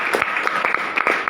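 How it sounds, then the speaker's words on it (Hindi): Audience clapping at a company motivational talk, a short burst of fairly close, brisk individual claps with a slightly uneven rhythm. "एक बार तालियां बजाइए।"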